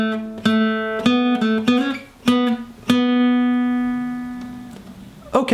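Slow, clear guitar notes play the second section of a song's intro solo with hammer-ons, a handful of plucked phrases, the last note ringing out long and fading before a brief rustle.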